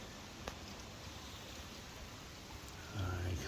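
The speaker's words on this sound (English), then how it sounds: "You like the sound of rain?" Steady rain falls outdoors near coyote pups, a soft continuous hiss with a faint patter throughout, and a low rumble swells near the end.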